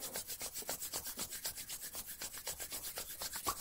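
Palms rub together vigorously during a guided Taoist self-massage meditation, making a fast, even swishing friction with about five strokes per second, close and soft, with no talking.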